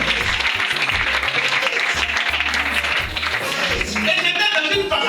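A church congregation at a Sunday service applauds steadily and loudly, a dense wash of clapping filling the whole stretch without pause.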